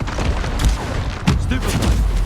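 Confringo blasting-spell explosions in a Harry Potter video game: repeated booming bursts crackle one after another, loud and close, with a couple of sharper blasts standing out.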